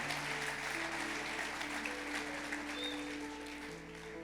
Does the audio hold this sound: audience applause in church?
yes